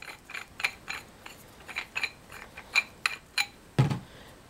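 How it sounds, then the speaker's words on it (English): An ETEK 4 paintball marker having its bolt lifted and slid out and its barrel removed, a close run of small metallic clicks and ratcheting ticks, ending in one heavier clunk. "the barrel is as simple as lifting up on the bolt and sliding it out"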